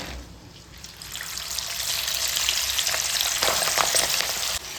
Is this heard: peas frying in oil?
yes